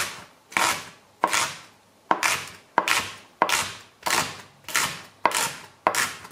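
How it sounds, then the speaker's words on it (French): A kitchen knife chops through a leek on a board in about ten sharp, evenly spaced strokes, each a crisp near thud with a short tail, with no voices. "ça prend vraiment 1 minute pour couper ce poireau"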